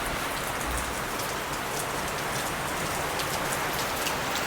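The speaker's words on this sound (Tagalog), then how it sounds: "3 araw na umuulan dito sa amin" Steady, dense downpour of heavy rain drumming on surfaces, a continuous hiss with no voices.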